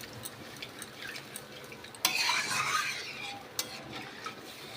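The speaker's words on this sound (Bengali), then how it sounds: "আমি আবারও খুব ভালো করে এটাকে নাড়িয়ে নেব।" Potato curry in a pan is stirred after hot water goes in, with faint scraping and clinks and a brief wetter, brighter burst of stirring midway, all fairly quiet.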